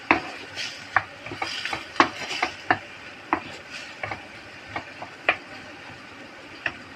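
Galunggong fish sarsiado with patis and pepper is stirred in a pan, giving a series of close, irregular scraping taps of the utensil against the pan over faint sizzling, with no talk.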